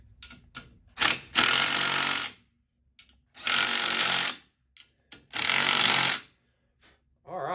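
Bolts on a Honda XL70 motorcycle are run down in three loud, close bursts of a rapid rattling impact tool, each lasting about a second or two. Small clicks and clanks of parts and tools fall in the pauses between them.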